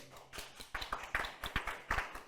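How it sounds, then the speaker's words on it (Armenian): A small studio audience on the Armenian TV game show Nota Mota gives brief, quiet applause: scattered individual claps in an uneven rhythm over about two seconds. "Ծափարություններ"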